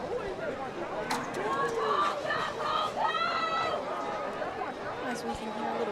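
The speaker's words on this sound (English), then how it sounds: "As we can hear a little cheering." Spectators cheer at a high school district track meet during a race, a steady roar of crowd noise and babble throughout with a few higher shouts rising above it.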